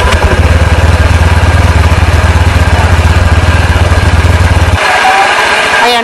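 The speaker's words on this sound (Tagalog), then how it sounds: "So, ngayon, i-start natin itong motor na to." A Honda Click i25 scooter engine runs at a loud, close, steady idle with a rapid putter, then the tone shifts near the end as it revs slightly.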